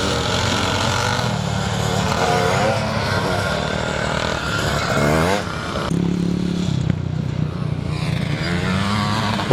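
Motocross motorcycles race at Thornhill during a Scottish classic motocross round, engines roaring loud and continuous as bikes rev and pass close by, with a commentator talking over the noise.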